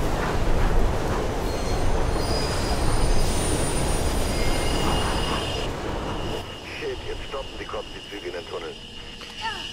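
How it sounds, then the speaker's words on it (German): A Mirror's Edge train thunders close by with loud rumbling and high metallic wheel squeal, then recedes toward quieter rattles. A person talks over it. "Hinter dir kommt ein Zug, also nichts wie raus da."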